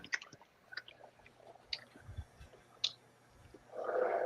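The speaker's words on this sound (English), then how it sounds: "Man, that is just so chewy." Someone chews food close to the microphone, with soft wet smacks and clicks scattered over a quiet background, ending in a louder rustling burst.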